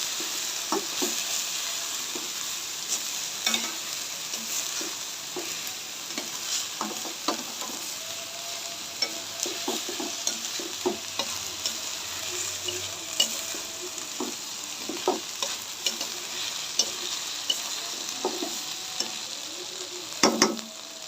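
Lentils are stir-fried in a pan for khichuri, with a steady loud sizzle under repeated scraping and knocking strokes of a spoon, close up and continuous without talk.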